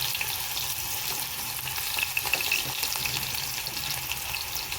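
Chopped dried onion dropped into hot oil for a Gujarati vaghar for seasoned rice, a continuous moderate sizzle with faint crackles, close and without talk.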